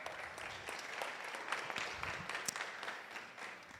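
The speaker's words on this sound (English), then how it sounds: "Let's give Stephen a round of applause." An audience at a career talk applauds a participant, a dense, even wash of clapping from a moderately sized crowd lasting the whole stretch, with no speech on top.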